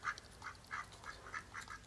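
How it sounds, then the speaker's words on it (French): Repeated short quacks from two ducks, about seven in a steady rhythm, fairly faint and at a distance over a quiet background. "Effectivement, on a les deux canards."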